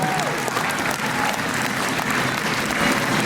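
An audience applauds young Siva Samoa dancers after a recital performance, a full, steady wash of clapping with faint voices and cheers mixed in throughout.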